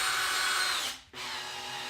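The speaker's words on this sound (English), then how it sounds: "let's just give her a squirt here with the drill" A power drill whirs loudly at high speed, briefly stops, then spins up again and keeps running close by.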